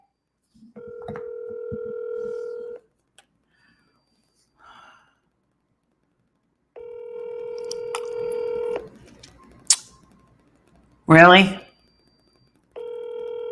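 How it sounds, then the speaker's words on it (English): An outgoing telephone call: a dial tone, rapid keypad dialing, and repeated ringback tones with pauses between them. A person gasps and speaks briefly in between. "So we're going to call him right now."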